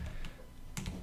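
A few light keystrokes on a computer keyboard, typed while entering a search query in a Jupyter notebook. The taps come as isolated, fairly faint clicks with short gaps between them.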